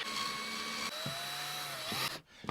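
A power drill driving screws while fitting a camper van's sliding door, a steady whining motor hum running close and loud for about two seconds with a brief pitch change, then cutting off.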